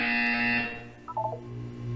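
A short electronic buzzer tone in the video game Portal, a bright sustained beep that cuts off, then a quick cluster of small blips under a low background hum.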